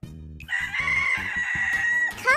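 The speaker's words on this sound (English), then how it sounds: "A rooster makes a cock-a-doodle-doo sound." A rooster crows one loud, close cock-a-doodle-doo, a long sustained call that ends with a rising warble, over a rhythmic low background.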